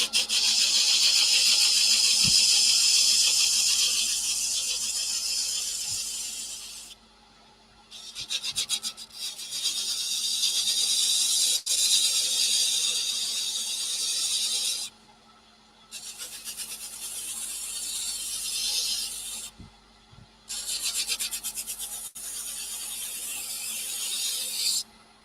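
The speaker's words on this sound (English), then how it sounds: "So we're just going to get rid of that just to finish the bowl off. I'm just going to sand it off." The bottom nub of a turned wooden bowl is sanded off in long, harsh scratchy passes, with brief pauses between strokes and a loud, close rasping texture throughout.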